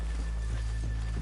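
Faint horse hooves clop at an unhurried walking pace over a low, steady background rumble in the video game Red Dead Redemption 2.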